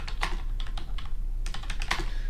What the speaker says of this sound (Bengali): তো আমি গুগল সার্চ বারে ডোমেইন অ্যান্ড হোস্টিং লিখে সার্চ করলাম